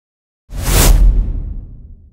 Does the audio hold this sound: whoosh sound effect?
yes